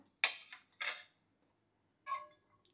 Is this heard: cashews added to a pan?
yes